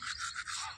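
Toothbrush bristles scrub steadily against teeth in a short, close burst of rapid back-and-forth strokes, with no voice.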